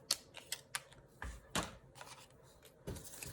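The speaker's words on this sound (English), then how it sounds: "I just like to take my scissors and cut it down a little bit." A series of short, crisp snips and rustles of paper, irregular and close by, with quiet gaps between cuts.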